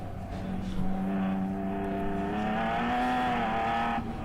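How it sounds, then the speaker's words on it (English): A race car at a ChampCar endurance race at Joliet, with the engine droning at steady pitch and then rising as it accelerates, heard from a distance under a continuous roar. "Little tire spin there."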